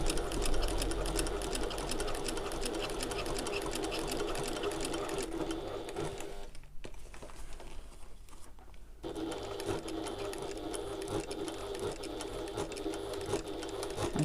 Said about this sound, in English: sewing straight across these strap tabs, making sure that they are pulled out nice and taut from that top seam